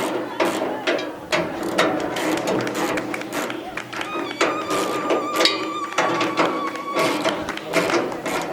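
A 14 spanner works the bolts on a threshing drum, making ratcheting metallic clicks and knocks with occasional clinks, heard close among background voices and movement.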